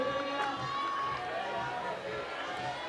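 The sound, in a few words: crowd cheering for a climber at Chamonix lead semi-finals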